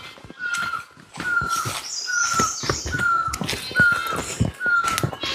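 A bird, identified as a great barbet, calls repeatedly on a Himalayan jungle trail near Chaubatia, Ranikhet, in May: a steady series of evenly spaced tonal notes with other birdsong and crunching footsteps close by.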